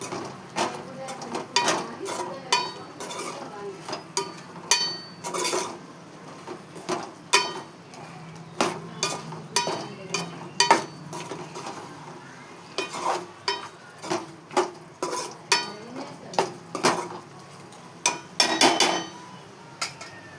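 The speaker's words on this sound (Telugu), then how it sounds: "కారం, ఉప్పు వేసి కలపాలి." A spoon stirs chili powder and salt into a dish in a pan, making steady, close scraping and clinking strokes in an irregular rhythm throughout, with no talk.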